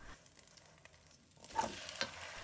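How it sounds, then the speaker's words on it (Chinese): A soft, low sizzle of a corn patty frying gently in a pan on low heat, quiet at first, then a brief scrape and stirring sounds. "开小火慢慢的给它煎制一下，让它定型"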